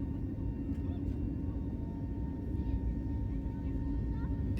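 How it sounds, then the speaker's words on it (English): Steady broadband cabin roar of an Airbus A320neo in cruise, a continuous low rumble and hiss at even loudness throughout, with no voices. "The flight is operated by an Airbus A320neo."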